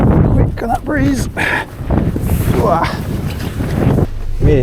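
Strong breeze buffeting the microphone aboard a Merry Fisher 695 motorboat on haul-out day, a loud rushing roar with gusty swells, while someone talks over it.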